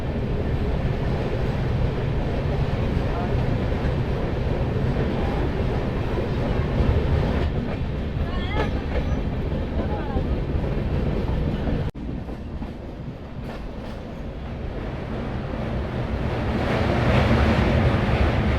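Jan Shatabdi Express running from Banaras toward Patna and crossing the Rajghat bridge: a loud, continuous rolling rumble with rhythmic clickety-clack of wheels, a brief dip in the middle, then the roar swelling again near the end.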